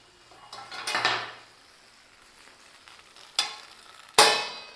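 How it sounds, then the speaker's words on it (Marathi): A metal lid set down over a masala roti cooking in oil on a hot pan, with a few clanks and clatters of cookware, the loudest near the end, over a faint sizzle. "त्याला आपण झाकण लावून ठेवू"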